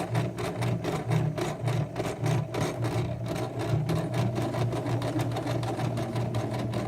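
A sewing machine stitches tote bag fabric, its motor running in a steady rapid chatter with brief slowdowns, fairly quiet and close, no talking.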